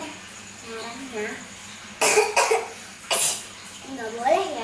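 A child demonstrates coughing, with several short, loud coughs in two bursts standing out from quieter background chatter and breathing.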